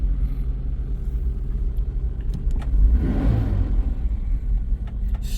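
A Citroen car creeping forward gently with its engine running, a steady low rumble throughout that swells slightly around the middle, heard close up from inside the car.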